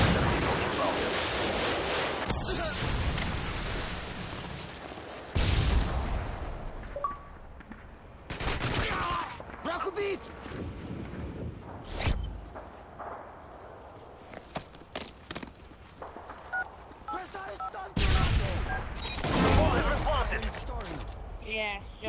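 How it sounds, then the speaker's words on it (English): Heavy explosions and bursts of gunfire from a Predator missile strike in a Modern Warfare 2 search and destroy match, several loud booming hits spread through a busy battle with recurring sharp impacts. "Friendly Predator missile inbound."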